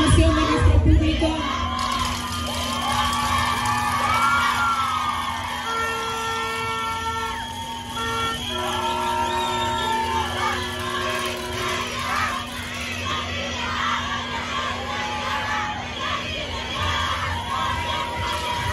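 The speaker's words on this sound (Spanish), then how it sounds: "Los gritos, la porra, la energía." Audience at a beauty queen election in Valparaíso, Zacatecas, shouting, yelling and cheering continuously, a loud sustained crowd roar with whoops and high children's cries throughout.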